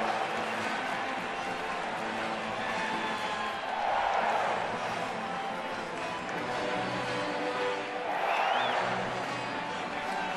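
Large stadium crowd of about 40,000 at a Washington Nationals baseball home opener, a steady roar of murmuring voices with two brief swells of cheering, heard at a distance and filling the whole stretch.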